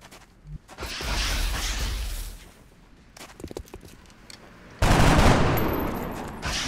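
Gunfire in the video game XCOM Long War, with bursts of rapid automatic fire and loud blasts separated by quieter mechanical clatter and whooshes, ending in a heavy sustained barrage.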